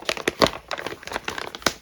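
A soft gift parcel being unwrapped, its packaging crinkling and rustling loudly up close in a string of irregular crackling bursts, with no talking.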